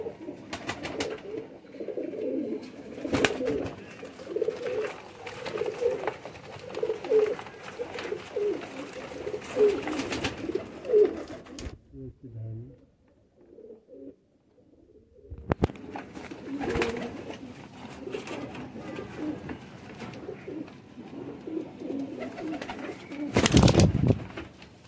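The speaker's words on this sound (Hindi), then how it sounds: "इमामदीन गोल्डन जो कमगर कबूतर है उन्हीं को ये दिखा रहे हैं" Imamdin Golden pigeons coo steadily in low, throaty rolls throughout, close by, with a brief lull midway and a few sharp knocks and rustles.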